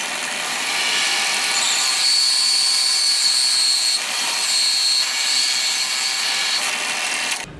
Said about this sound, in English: That bit is in the drill press, so we're gonna use it.